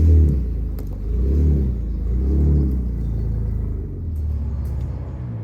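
Ford Ranger Raptor off-roader engine revving up in repeated deep rumbling surges, loud and close, with rising and falling throttle pulses and no talking.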